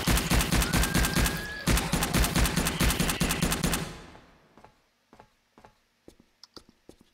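Rapid automatic gunfire in the survival video game Subterrain, shooting to destroy eggs: a loud sustained burst of evenly spaced shots that cuts off, followed by sparser single clicks and shots fading out.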